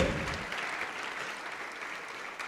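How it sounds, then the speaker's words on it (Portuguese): A church congregation applauds, a steady dense wash of clapping that holds at even loudness throughout, with no clear voices over it. "vamos aplaudir ao Senhor Jesus. Vamos aplaudir mais, igreja."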